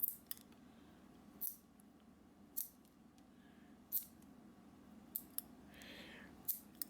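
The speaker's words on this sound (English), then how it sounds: "we're going to take a pair of nail clippers or toenail clippers and start to go around and snip off this excess." Nail clippers snip excess thread off a bobbin in a quiet room, giving about seven sharp, separate clicks spread irregularly over several seconds, with no talk.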